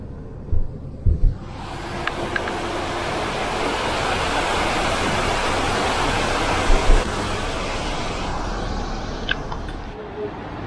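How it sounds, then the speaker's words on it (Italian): Waterfall in Transylvania pouring as a broad, steady roar of rushing water heard close by, with a few brief knocks and bumps near the start and again in the middle. "Bella la cascata."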